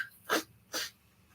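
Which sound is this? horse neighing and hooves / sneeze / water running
sneeze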